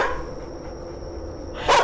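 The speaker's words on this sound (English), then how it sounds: "That is the loudest dog I've ever heard." One loud, close dog bark bursts out abruptly near the end of a quiet stretch in the horror video game The Karaoke (Hitokara), following a faint steady electronic tone.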